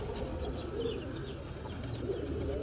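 Pigeons coo softly in a group, low and faint with a quiet continuous background, no speech.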